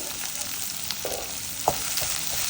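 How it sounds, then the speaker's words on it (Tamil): Onions, green chili and curry leaves fry in oil in a pan, a steady hiss broken by a few soft stirring scrapes and one sharper spatula knock; no voices. "இது கொஞ்சம் நல்லா ஃப்ரை ஆகட்டும்"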